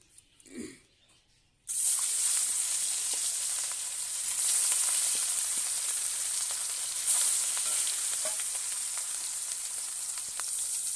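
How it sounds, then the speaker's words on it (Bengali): Loud, steady sizzling of rohu fish frying in hot oil, a bright hiss beginning abruptly after a brief quiet knock and continuing without talk. "তেল গরম হয়ে গেছে, আর মাছগুলোকে ছেড়ে দেবো।"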